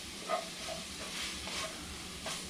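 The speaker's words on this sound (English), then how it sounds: "Stir that around for about a minute." Chili spices stirred as they fry in a hot pot for chili colorado, a steady close sizzle with soft scraping strokes of the spoon coming through now and then.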